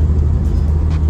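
Turbocharged car engine and exhaust fitted with a CTS Turbo downpipe, a steady loud low rumble held throughout with no break in level.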